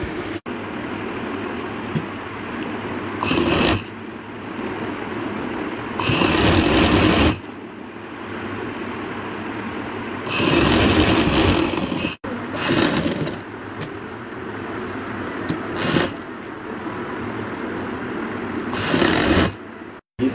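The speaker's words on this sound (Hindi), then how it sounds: "जिस साइड पर सिलाई लगा रहा हूँ" A sewing machine stitches lace onto a dupatta, its motor running in several loud bursts of a few seconds each, separated by quieter pauses with handling noise.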